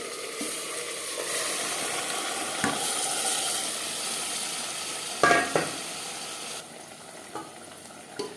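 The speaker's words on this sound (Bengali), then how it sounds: "পেঁয়াজ হালকা করে ভেজে নেওয়ার পর দিয়ে দেবো ম্যারিনেট করে রাখা মাটন" Marinated mutton fries with onions and bay leaf in a pan for mutton biryani, sizzling in a steady hiss. A few sharp scrapes and clinks from the utensil cut through the sizzle, with no voices.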